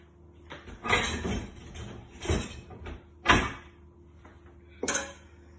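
Kitchen utensils and dishes clatter in several short bursts as someone rummages for a whisk while making sweet chocolate buns, with sharp rattling knocks spaced a second or so apart.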